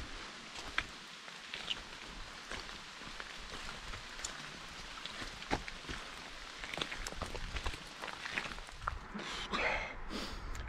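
Rain patters steadily onto a surface outdoors on a hiking trail, a dense close crackle of drops with occasional louder taps and some rustling near the end.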